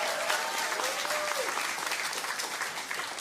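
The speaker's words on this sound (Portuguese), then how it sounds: "Dá uma salva de palmas para ele, é vovô agora." Steady applause from a church congregation fills the space, continuous and fairly loud, with a faint voice briefly audible underneath.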